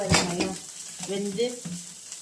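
Okra (vendaikkai) sautés in a pan for sambar with a soft, close sizzle and a few stirring scrapes, while a voice murmurs faintly in the middle.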